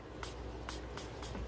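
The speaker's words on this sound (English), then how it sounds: "For this, I use a beauty blender and I'm just gonna spray it." Water spritzed onto a makeup beauty blender sponge in four short, crisp spray bursts at a steady pace, close to the microphone over a quiet room background.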